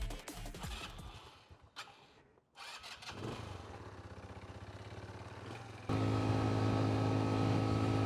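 A restored $100 marketplace scooter with fresh oil and new tires on its first test ride, its small engine running steadily, briefly dipping, then settling into a louder, higher sustained drone up close.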